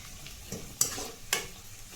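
Fried ingredients are tipped into puffed rice for chivda and mixed, giving a low crackling rustle with two sharp scraping clinks of a utensil against the vessel, close and quiet.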